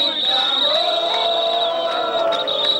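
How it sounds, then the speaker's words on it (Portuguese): Street protesters in Teresina shouting and blowing whistles in jeering, a loud crowd sound with a sustained high whistle tone running throughout, dense and continuous. "o que se pôde ouvir foram muitos gritos de protesto e apitos em forma de vaia"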